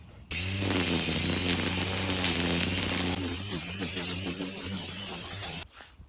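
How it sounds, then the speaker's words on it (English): A Black and Decker 20V cordless string trimmer spins up abruptly and runs at a loud, steady high-pitched whine, its line whirring through hefty growth up close, then cuts off sharply after about five seconds. "the trimmer definitely has the power to take down pretty hefty growth that you may be wanting to trim back"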